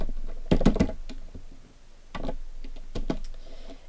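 Keys clacking on a computer keyboard while coding an HTML form, in short close bursts of rapid taps separated by brief pauses.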